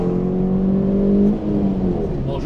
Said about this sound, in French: On fait un peu craquer le moteur là.